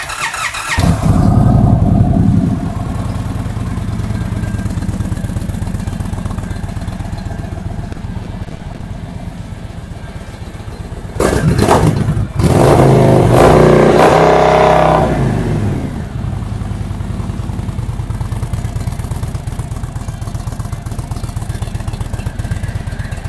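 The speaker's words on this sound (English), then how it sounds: "We're gonna start this guy up and let you hear the exhaust." An Indian motorcycle engine fires up and idles with a deep, loud rumble, then revs hard through a new throaty exhaust before settling back to a steady idle.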